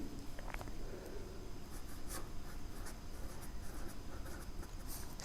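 A pen or pencil scratches steadily across paper while a physics numerical problem is written out by hand. The scratching is continuous and close-up, with small taps and strokes over a faint background hiss.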